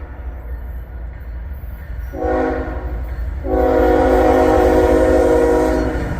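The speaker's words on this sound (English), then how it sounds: "And it is a Norfolk Southern. Looks like intermodal." A Norfolk Southern intermodal freight train led by a single locomotive passes nearby, a steady loud rumble that rises as a horn sounds briefly, then blares long and strong over the continuous rolling roar.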